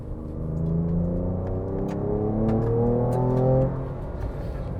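A 2023 Ford Ranger Raptor engine revs loud and close, rising and settling in sustained harmonic swells for several seconds with a deep rumbling body and no talk over it.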